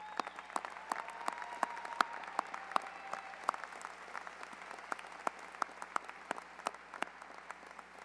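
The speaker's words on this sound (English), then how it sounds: "parents and students, let's give them an incredible round of applause." Graduation crowd applauding the teachers at a high school ceremony in a large hall, scattered steady clapping that sounds distant and fairly quiet, with sharp individual claps standing out from the wash for the whole stretch.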